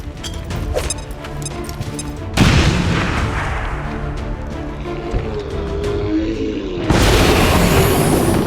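A grenade explodes in the video game XCOM 2: War of the Chosen with a loud, booming blast over dense battle music and effects, followed by a second bright crash near the end.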